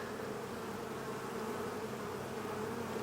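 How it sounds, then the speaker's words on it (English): Honeybees droning steadily in an open hive during an inspection, a soft, continuous hum with no breaks or voices. "Look at all those bees."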